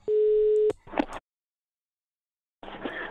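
Skype call starting on a computer during a live stream: a single steady electronic tone lasts about half a second, a short burst of clicks and noise follows, then silence, then faint background sound returns.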